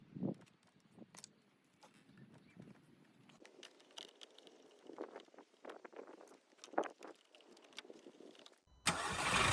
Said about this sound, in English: you can see me running the engine for around 30 seconds just to relieve some pressure from the lines themselves